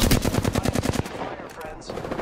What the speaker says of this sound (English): Shot fired at me.